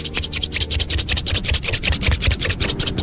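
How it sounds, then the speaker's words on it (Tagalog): Scissors open and close in rapid repeated strokes, producing a rhythmic, scratchy metallic snipping and rasping about six times a second. The sound is close and loud, with no talking. "Gunting na binubukasara"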